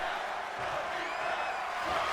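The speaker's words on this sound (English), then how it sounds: "The crowd calling out their approval." A video-game wrestling arena crowd in WWE 2K23 roars steadily in a loud, dense wash of cheering that holds through the whole stretch, with no commentary over it.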